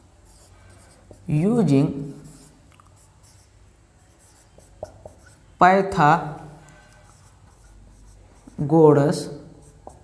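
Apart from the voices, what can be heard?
writing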